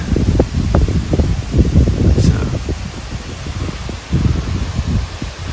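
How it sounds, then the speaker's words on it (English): Wind gusting outdoors through trees and a grassy yard of freshly sown grass seed, making a loud, continuous rustling roar that swells and eases, with microphone buffeting. "wind is blowing"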